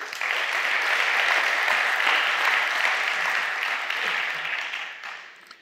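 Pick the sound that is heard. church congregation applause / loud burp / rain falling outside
church congregation applause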